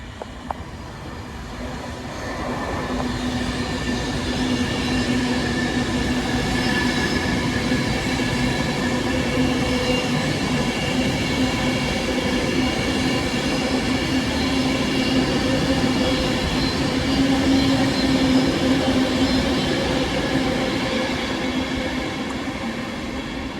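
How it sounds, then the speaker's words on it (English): Avanti West Coast train 39121, on a Carlisle to London Euston service, passes through a station in North Staffordshire with a sustained rumble and steady wheel noise for over twenty seconds. "about to pass through is going to be 39121 Opportunity on an Avanti West Coast service from Carlisle to London Euston"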